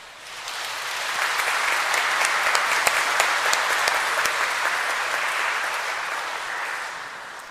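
A congregation at a priest's 50th ordination anniversary celebration breaks into warm applause that swells within a second, holds as a dense sustained clatter of many hands, and fades near the end.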